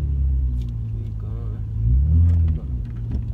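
A car backing up in reverse as a young learner drives, its low engine rumble swelling briefly as it revs, with a voice giving instructions over it.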